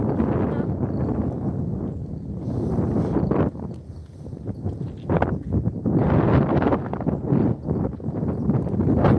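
Gusting wind buffets the microphone on a windy day of ice fishing, a steady, broad roar that swells and rustles throughout, with loud low-frequency rumbling bursts and no speech.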